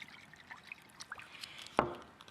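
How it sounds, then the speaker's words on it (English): Worcestershire sauce splashes and dribbles onto raw ground beef and turkey for chipotle burgers, with a short trickle early and one sharper wet splat near the end, close and fairly quiet. "Fat splash of Worcestershire."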